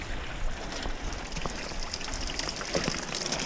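A swollen stream on a wet forest hiking trail at Brohm Lake in Squamish, BC, rushing just under a footbridge in November: a continuous, fairly soft wash of flowing water with no talking.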